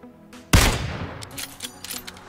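A sudden loud gunshot burst in the video game PUBG, followed by a decaying echo and a few fainter distant shots, close and sharp with no talking over it.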